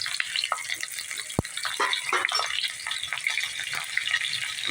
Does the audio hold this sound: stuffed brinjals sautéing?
yes